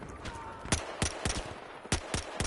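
Rapid gunfire in the Battlefield Hardline video game, a burst of sharp, fairly close shots in an uneven rhythm, with about ten cracks over a low background hum.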